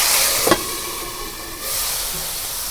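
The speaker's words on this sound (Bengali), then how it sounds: "তেলের মধ্যে এখন আমি চালগুনা ভাইজা নেব।" Raw rice sizzles and hisses in hot oil for white biryani, a steady loud frying wash with a brief stir clatter near the start.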